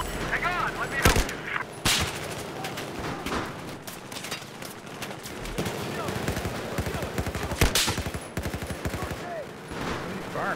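Dense Battlefield 4 gunfire during a team deathmatch on Operation Locker, with rapid automatic bursts and sharp single shots crackling continuously, some loud and near, others farther off, with voices talking over the fighting.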